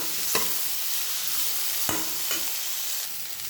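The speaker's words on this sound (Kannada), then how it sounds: "ಇವಾಗ ಇದನ್ನೆಲ್ಲ ನಾನು ಫ್ರೈ ಮಾಡ್ಕೊತೀನಿ." Mint and coriander leaves with spices frying in oil for a horse gram sprout curry, a steady close sizzle with a few sharp stirring scrapes.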